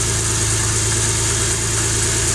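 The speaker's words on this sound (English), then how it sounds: "now that we got the vehicle on, you see that it's running" A car engine idling while a blown head gasket is being checked, a steady loud drone with an even low throb and constant broadband hum and no speech.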